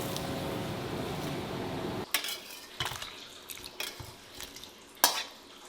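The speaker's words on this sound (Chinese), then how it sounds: "将苦瓜捞出， 放入冷水中浸泡。" Blanched bitter melon is scooped out and dropped into cold water in a kitchen, a brief watery rush giving way to scattered clinks and splashes of pot and utensils, close up.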